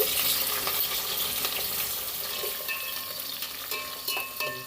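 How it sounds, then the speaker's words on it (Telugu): Onion pieces frying in oil with whole spices, a dense continuous sizzle with crackling pops and occasional stirring scrapes, fairly close and loud, no talking. "ఇప్పుడైతే ఉల్లిపాయ ముక్కలు అయితే వేస్తున్నాను."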